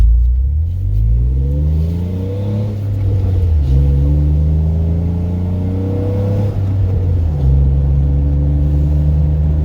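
A Jeep JK with an aftermarket AFE Scorpion exhaust growls as it accelerates, rising in pitch through several gear shifts, loud and close with a throaty exhaust rumble.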